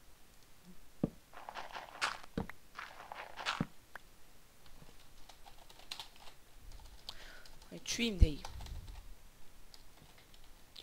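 Computer keyboard keys click in scattered bursts and single taps at close range, with a brief spoken phrase breaking in partway through.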